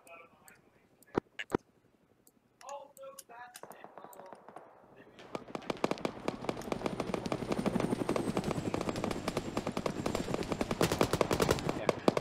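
Arma 3 battle sounds with rapid, dense machine-gun bursts and a helicopter's rotor thump growing louder as it approaches from a distance, after a few sparse shots and some speech near the start.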